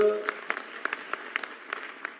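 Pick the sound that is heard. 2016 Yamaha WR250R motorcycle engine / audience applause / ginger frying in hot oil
audience applause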